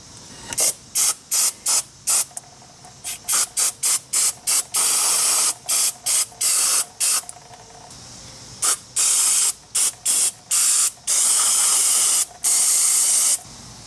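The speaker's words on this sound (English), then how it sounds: "First, I like to clean things up a little bit with some brake clean." Brake cleaner sprays from an aerosol can onto the front disc brake caliper of a 2002 Pontiac Grand Am in many short hissing bursts, with a few longer sustained blasts, close and loud.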